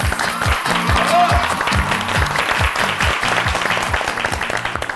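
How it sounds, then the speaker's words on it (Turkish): Studio audience applause on the set of the Turkish TV cooking competition Gelinim Mutfakta, loud and sustained for the whole stretch over a thumping music beat. "Ne oldu, bir alkışlar arttı bir anda."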